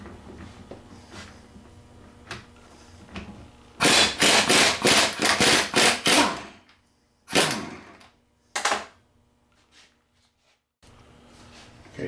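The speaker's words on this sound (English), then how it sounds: "So I had to hit that one pretty hard with a rubber mallet hammer to get it to come all the way out the other side" Rubber mallet pounding a front wheel bushing out of a Kubota mower deck: a fast burst of about eight sharp, loud blows, then two more separated strikes and quieter shop ambience.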